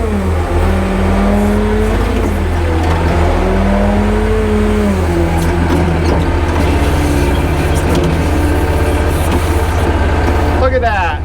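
A forklift operating with its engine running loud and steady throughout while the forks are adjusted, the motor pitch shifting slightly, with a voice talking over it early on.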